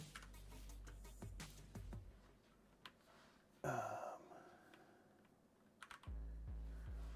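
Someone types on a computer keyboard while designing a Pokemon game, with quiet bursts of clicky keystrokes, several pauses, and a louder flurry of keys near the end.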